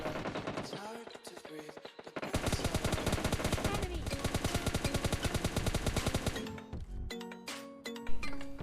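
Rapid automatic M416 rifle fire in a shooting video game, dense sustained bursts of loud crackling shots with metallic ringing, then a few spaced single shots near the end.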